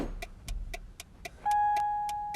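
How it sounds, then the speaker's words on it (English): A Mercury Cougar's door-open warning chime beeps in a steady, evenly spaced series of about ten electronic tones, moderately loud and close, with a sustained higher tone joining partway through; no talk. "I just stopped the beeping"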